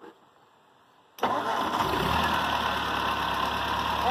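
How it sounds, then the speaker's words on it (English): Ford 8N tractor engine starting: quiet lead-in, then an abrupt catch at about a second in, settling straight into a loud, steady running idle with no talk. "let's fire it up"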